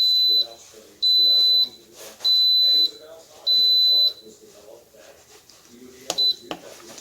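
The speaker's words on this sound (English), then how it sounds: "when it beeps and goes off, I'm going to hit the cancel button here to stop it" An Instant Pot electric pressure cooker gives four loud, evenly spaced high beeps, each lasting about half a second to a second, followed by a brief short beep, while someone talks quietly underneath.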